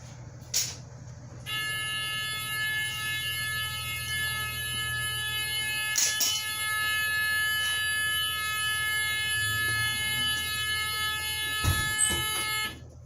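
A bus emergency door alarm: a steady, loud electronic buzzer drones continuously for most of the clip, with a few clunks and knocks over it.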